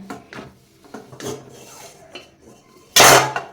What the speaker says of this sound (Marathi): आपण आता याच्यावरचं झाकण काढून पाहूया